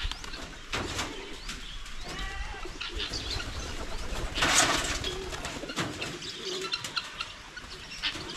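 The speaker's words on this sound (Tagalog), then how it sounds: "Ang dami na po sa ating kalapati." Pigeons coo softly and continuously inside their coop, layered with scattered chirps and a brief burst of wing flapping partway through, close by and without speech.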